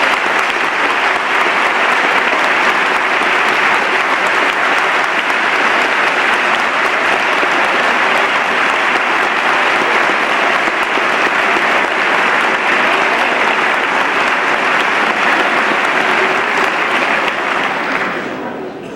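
A large audience at a presidential State of the Union address in the House chamber gives sustained, dense applause that holds steady at full strength for nearly twenty seconds and then begins to fade.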